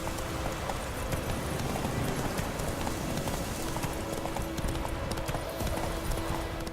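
A horse gallops in The Witcher 3: Wild Hunt at a fast, even rhythm, hooves pounding continuously and fairly close throughout, in rain.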